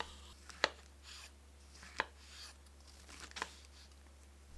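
A knife chops through mushrooms on a board in three sharp, evenly spaced cuts, close and quiet over a low steady hum.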